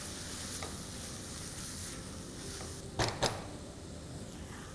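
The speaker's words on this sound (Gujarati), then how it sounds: "થોડું green chilli sauce, soya sauce. આ બધું જ નાખીને આપણે એને હલાવી લઈશું." Vegetables tossed in a pan with green chili sauce and soy sauce, a low steady sizzle broken by a couple of sharp spatula scrapes and knocks, close but fairly faint, without talking.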